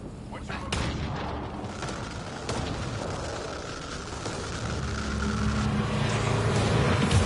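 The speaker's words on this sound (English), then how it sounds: "We've experienced a catastrophic lightning hit." A catastrophic lightning strike on a ship in the video game Mass Effect Andromeda: sharp crackling booms break over a heavy rumbling roar that swells louder toward the end, with game voices mixed in.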